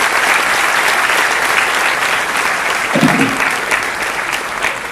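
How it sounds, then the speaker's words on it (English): An audience at a university Toastmasters club meeting claps steadily throughout, a dense, even round of applause with a brief thump partway through. "Take a round of applause."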